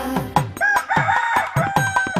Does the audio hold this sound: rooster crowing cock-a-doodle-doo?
yes